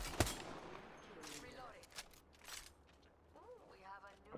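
Gunfire in the shooter game Apex Legends comes as a sharp shot followed by scattered quieter bursts, fairly faint, with a voice talking over parts of it.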